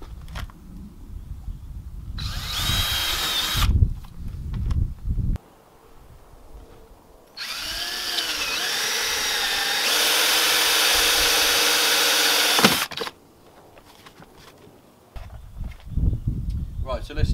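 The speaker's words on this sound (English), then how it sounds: "Let's get a pilot hole drilled." A power drill bores a pilot hole into the bumper of a VW T5 van, with loud sustained whining bursts of drilling separated by quieter handling noise, close to the microphone.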